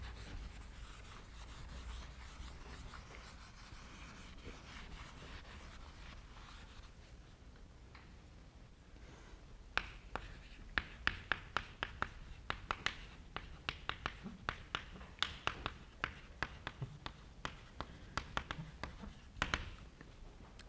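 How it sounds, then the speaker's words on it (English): Chalk tapping and scraping on a lecture-hall board, a quiet rubbing stretch followed by a busy run of sharp clicks and strokes, moderately close, with faint room noise behind. "Now, it can't literally be what I just wrote."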